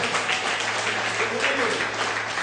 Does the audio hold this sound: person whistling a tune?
no